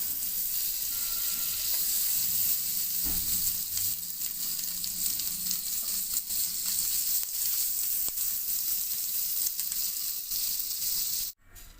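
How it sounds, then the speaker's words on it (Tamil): Butter sizzles steadily on a hot tawa before bread is roasted, a dense, close crackle lasting throughout. A few faint clicks sit under it, and it cuts out abruptly near the end with no speech. "தவாய் வந்து சூடாயிருச்சு ஸோ பட்டர் வந்து ஒரு ஸ்பூன் சேர்த்துக்கிட்டேன்"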